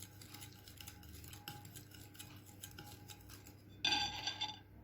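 Cake batter for a mosaic cake being stirred after butter is added: a soft, steady scraping and swishing in a bowl, with a brighter clink of utensil against the bowl near the end.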